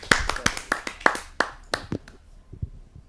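An audience at a Hindi poetry gathering claps, starting with a quick run of sharp, close hand claps that thin out into scattered, fading claps.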